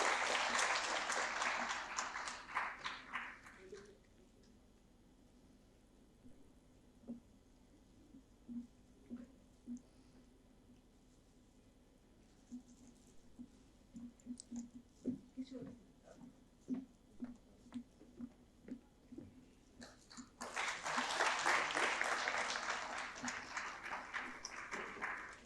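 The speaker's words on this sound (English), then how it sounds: "please a huge round of applause" Audience applause fills an auditorium at Stein Auditorium, loud dense clapping for about four seconds at the start, then quieter talk with scattered sounds, and a second strong burst of applause near the end.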